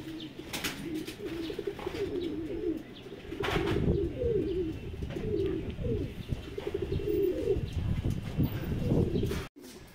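Pigeons coo repeatedly in low, throaty phrases nearby, with a few chirps and a brief flutter of wings in the background.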